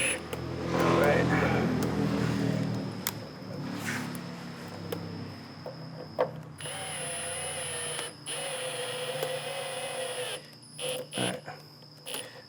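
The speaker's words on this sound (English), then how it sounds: "we got all 4 of these corner screws started" Screws driven into the plastic of a BMW F32 435i front lip, a power driver whirring in short bursts with clicks and handling noises, close by, while people talk.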